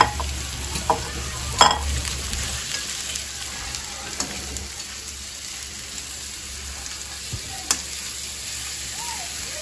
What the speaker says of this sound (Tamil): எண்ணெயில் போட்டு கடுகு பொரிஞ்ச உடனே வெங்காயத்தை போடணும்